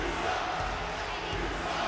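A wrestling arena crowd in the WWE 2K24 video game roars and cheers in a dense, steady wash of sound that stays loud and unbroken throughout.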